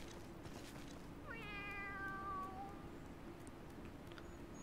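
A single drawn-out cat meow from a video game rises and then falls, faint and alone over quiet background hiss.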